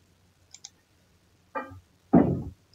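Computer mouse clicks while editing a photo-frame mockup in Photoshop, two light quick clicks followed by two louder, heavier click-knocks, isolated in a quiet room.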